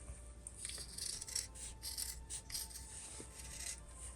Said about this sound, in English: you can go around and then you can trim this all around it